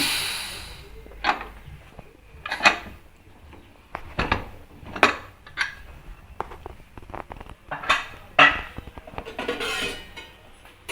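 Pressure cooker lid lifted off after cooking green gram rice, with scattered metallic clinks and knocks of pot and lid at close range, coming in irregular bursts over a quiet kitchen background.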